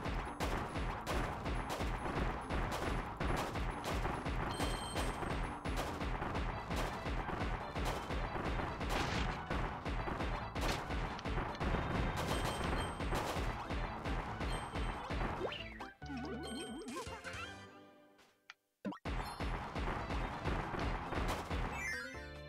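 Rapid, continuous cannon blasts from Kirby's cannon ability in Kirby's Return to Dream Land Deluxe EX Mode, dense and loud throughout, with a brief drop near the end before the barrage resumes.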